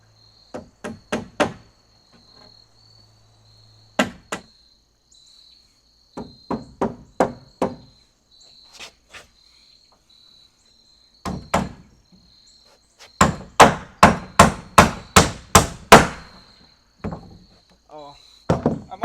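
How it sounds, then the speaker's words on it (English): Sharp hammer strikes drive nails into wood in short clusters, several quick blows at a time, separated by pauses, with a faint steady hum in the background. "put together via hammer and nail."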